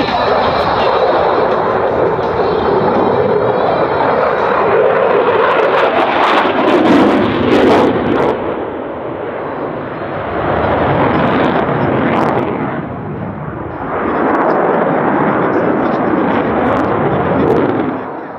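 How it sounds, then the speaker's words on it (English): Eurofighter Typhoon fighter jet flying a display at the Radom air show in 2013: a loud, continuous roaring engine rumble that swells and eases as the aircraft manoeuvres, with wind buffeting on the microphone. "This shows how the Eurofighter 2000 is handled with a very short speed, with great fluidity and harmonic movements, with wide angles of attack."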